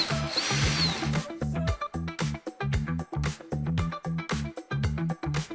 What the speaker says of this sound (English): Remove the entire front panel on opposite side by unfastening screws around perimeter.